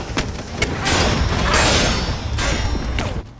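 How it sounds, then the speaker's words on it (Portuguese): A tank round strikes the player's soldier in the Warhammer 40K Eternal Crusade video game, a loud rumbling blast with thuds and crashing bursts that swell and sustain across the moment amid battle noise. "Droga, levei tiro do tanque."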